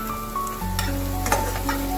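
Potatoes frying in a pan for aloo posto crackle in a close, continuous sizzle, with small stirring clicks and no voices.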